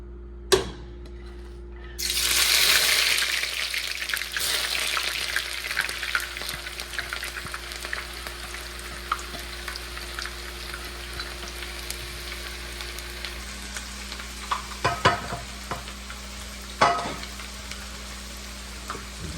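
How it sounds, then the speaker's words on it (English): A black-eyed pea and mackerel sauce is poured into hot oil and bursts into a loud, steady sizzle of frying. The sizzle keeps going throughout, with a few sharp clinks of a utensil near the end. "So now I'm just going to pour that in my oil."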